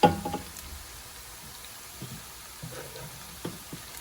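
A single onion frying in a little oil for a Karachi-style chicken biryani, giving a soft, steady sizzle with faint crackles and occasional stirring clicks, quiet and close.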